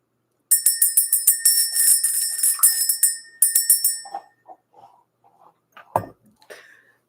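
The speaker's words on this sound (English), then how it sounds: "Let's ring the bell." A bell rung to clear the energy during a tarot reading: a run of bright, rapid rings, a short pause, then another burst, followed by faint handling noises and quiet shuffling.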